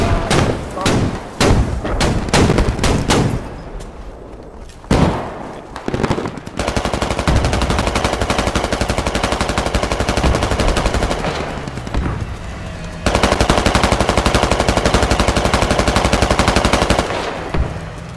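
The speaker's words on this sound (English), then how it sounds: "Enemy gunshot." Enemy gunfire in the military shooter game Squad: loud bursts of automatic fire and single shots in rapid clusters, with sustained rattling volleys and heavy thuds, and voices talking now and then underneath.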